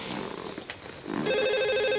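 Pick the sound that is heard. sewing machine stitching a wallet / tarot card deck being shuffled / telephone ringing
telephone ringing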